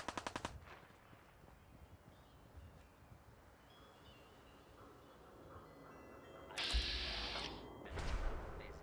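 Video game gunfire from a wasteland setting: a rapid burst of automatic shots at the start, then quiet wind-like ambience, then more loud bursts of gunfire near the end.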